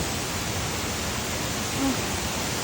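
A waterfall on a forest trail, heard as a steady, even rush of falling water, broad and moderately distant, with no break throughout.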